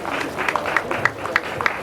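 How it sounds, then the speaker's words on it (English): Audience applause at an investiture ceremony, honouring the president, with rhythmic hand claps sounding in bursts that blend into crowd noise. "Please, a round of applause for our President."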